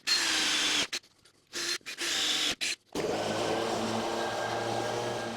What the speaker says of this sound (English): I'm going to drill my fixing holes here on this angle iron